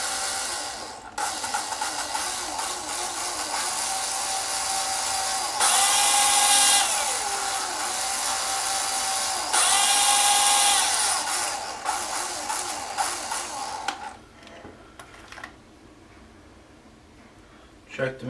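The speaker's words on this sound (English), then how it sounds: "drill through the hole" A handheld power drill boring a hole through a tricopter main frame, a loud high whine running in long bursts with two sharper peaks as the bit bites, then spinning down and stopping.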